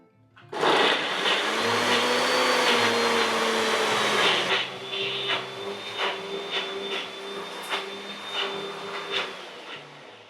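A blender runs loud and steady on a frozen smoothie of cacao, unflavoured protein and dates, its motor drone continuous from the start, then its pitch shifts and it begins to labour and pulse unevenly as the thick mixture churns.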